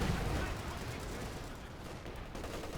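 A time-on-target artillery barrage in the WWII strategy game Company of Heroes 2, a dense, rolling roar of overlapping shell blasts and gunfire rumbling steadily throughout, with a voice talking over it.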